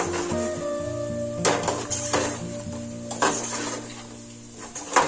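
Green chillies frying in a pan for chicken pulao, a steady sizzle with clinks and scrapes of a utensil stirring against the pan, close and continuous without talk.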